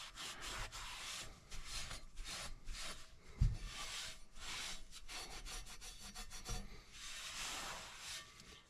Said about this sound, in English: give it a good rub down